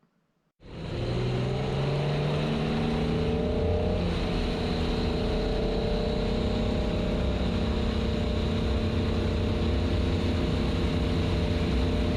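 A loud, steady motorboat engine drones close by while towing a wakesurfer, holding a constant roar with a slight pitch rise as it settles into cruising speed.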